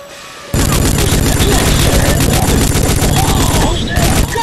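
Loud, sustained automatic gunfire in the Rogue Trooper video game, starting abruptly and continuing as dense rapid bursts with booming impacts.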